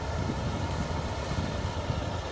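A wheat harvesting machine running in a field: a dense, unbroken mechanical roar with a heavy low rumble, loud and close, with no talk.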